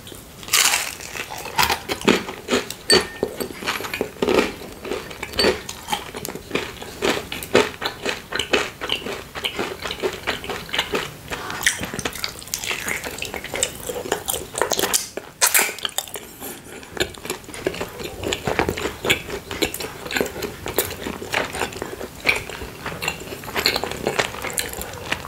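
Close crunching bites and chewing of tamari sushi come in a dense, irregular stream of crisp clicks and squishes, loud and near throughout with no talk.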